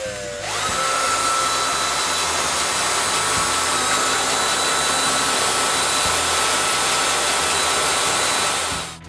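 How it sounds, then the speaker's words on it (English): A drill bores holes for a chair's backplate and rungs during a chair restoration, one steady high whine sustained close-up for several seconds after a brief spin-up. "Then I drill the holes for the backplate and 2 rungs."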